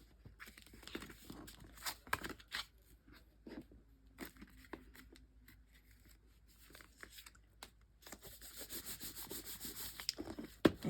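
Glued paper craft pieces are burnished by hand, giving soft scattered rubbing and scraping strokes, faint and close, with a busier stretch of rubbing near the end.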